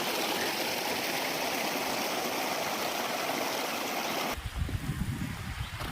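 Steady rushing of stream water in Wayanad, a dense broadband wash that fills the clip before shifting to a lower, choppier gurgle near the end.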